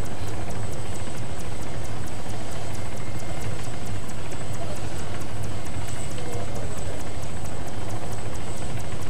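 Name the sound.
helicopter in a video game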